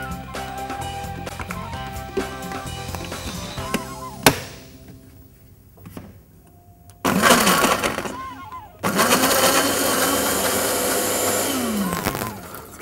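A blender whirs loudly in two long bursts, coarsely grinding chili paste with a little water, with a short run between them, after a stretch of clattering kitchen sounds.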